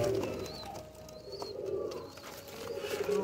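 Pigeons, some wearing Dubai leg rings, coo softly several times at close range over a low hum of background noise, with a few brief chirps between the calls.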